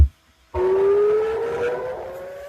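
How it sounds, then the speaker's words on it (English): Air raid sirens wail over Tel Aviv during a missile barrage, a sustained rising tone starting abruptly after a brief silence and holding loud with a slow upward glide. "Sirens sounding over Tel Aviv as a barrage of missiles hit the nation."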